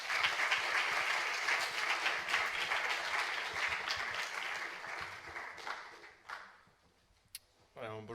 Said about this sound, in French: que nous applaudissons, nous remercions d'être venus